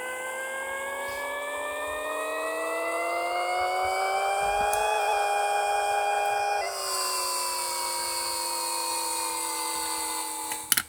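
A supercharged car engine in the video game Pixel Car Racer revs steadily upward in a long whining climb, drops briefly and settles into a high sustained tone, ending with a short blip.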